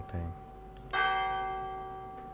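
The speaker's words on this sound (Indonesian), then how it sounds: "Siapa yang nyalain lonceng malam-malam?" A church bell rings at night in the horror game Martha Is Dead, one resonant strike that hums and slowly decays, preceded by a brief low thud, heard alone and fairly loud.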